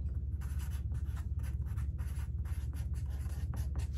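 A pen writes a label on a paper sewing pattern for a kids' jeans pocket. Close, steady scratching strokes come in quick short bursts with tiny pauses between letters.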